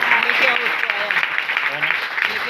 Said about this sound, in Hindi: आपकी ताली भी कम बजी।